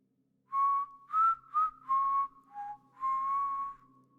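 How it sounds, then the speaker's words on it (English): A person whistles a short, clear tune of several distinct notes, some held and some quick, close and alone against a quiet background. "And then we'll sort of whistle a little bit of a tune"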